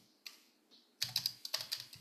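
Close, quiet typing on a Bluetooth keyboard linked to a tablet, with a few scattered keystrokes that turn into a brisk, uneven run of sharp clicks.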